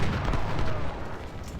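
A heavy explosion destroys an artillery piece on a Civil War battlefield in Ultimate General: Civil War, a deep booming blast that rumbles and slowly fades over under two seconds.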